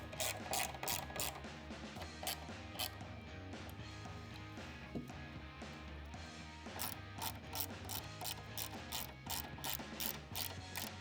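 Button head screws are driven into a motorcycle fairing trim bezel with a ratchet, giving rapid rhythmic clicking bursts close up, with quieter handling noise between runs.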